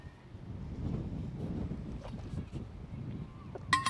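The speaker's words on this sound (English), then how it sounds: "It's really windy here today." Gusty wind buffets the microphone outdoors, a low steady rumble rising and falling for several seconds, with a sharper burst near the end and no talking.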